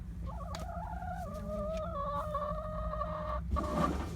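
A penned backyard chicken clucking and making drawn-out complaining calls close by, fairly quiet over a faint steady background hum, with a small burst of scratchy noise near the end.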